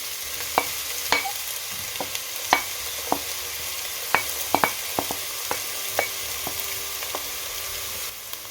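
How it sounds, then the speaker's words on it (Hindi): Chopped medium onion frying in hot oil in a pan, a steady close sizzle with scattered sharp crackles and pops throughout, no voices. "ऑयल गर्म हो चुका है। अब इसमें एक मीडियम साइज का प्याज कटा हुआ डाल देंगे।"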